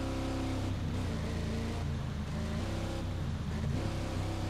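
Steady car engine drone in Ghost Recon Breakpoint, holding a constant low growl with shifting harmonic tones as the vehicle drives along a road, loud and continuous without voices.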